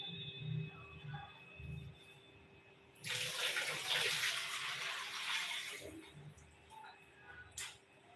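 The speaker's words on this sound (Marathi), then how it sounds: "आता हे पाणी काढून टाकायचं आहे." Water poured off washed homemade butter during ghee making: a few seconds of splashing, running water rising and fading, with faint handling clatter before and after.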